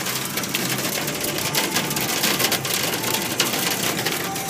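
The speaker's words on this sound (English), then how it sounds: "All I see is hail bouncing off the car." Dense, continuous rattling patter of hailstones striking a car's metal and glass, loud and close, with no voices.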